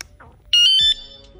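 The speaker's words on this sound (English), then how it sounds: "So if anybody touches your bike, it'll do one beep like that" A smart bike tail light mounted on a Talaria Sting R MX4 electric dirt bike gives one short, loud electronic alarm beep lasting under half a second, alone in a quiet setting.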